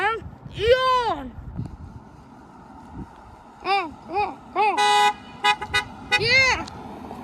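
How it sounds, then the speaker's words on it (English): Car horns honk from passing traffic at a roadside where children shout and cheer, with two or three short, loud horn blasts in the second half mixed in with the excited young voices. "Yeah, we're gonna make cars honk today"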